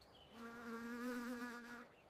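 Insect-like buzzing mosquito sound effect, a steady whining drone that swells in and fades out over about two seconds, alone with no talk.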